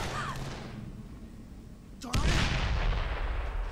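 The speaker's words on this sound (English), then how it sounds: "Let's see if I can use some grenades" Grenade blast in the zombie game Dead Island, a sudden loud boom midway that follows a quieter stretch of game ambience and leaves a heavy, rumbling tail.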